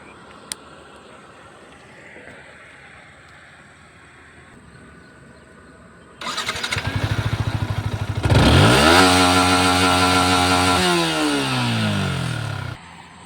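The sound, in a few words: Yamaha MT15 BS6 motorcycle exhaust note revving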